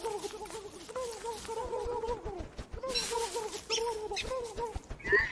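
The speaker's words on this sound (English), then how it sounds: "Oh my gosh, there's so many turkeys." Turkeys in the video game Don't Starve Together give repeated, fairly quiet gobbling calls in short bursts over a soft background of footsteps and game noise.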